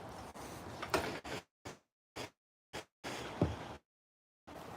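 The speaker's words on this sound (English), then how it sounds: "this door is heavy as shit" A heavy door is shoved open and swings shut, with several separate thuds and clunks between silent gaps, close and fairly loud.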